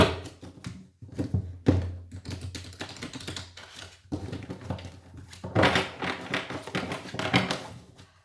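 Tarot cards are shuffled by hand close by, producing repeated rustling, slapping bursts with brief pauses between them and no talking.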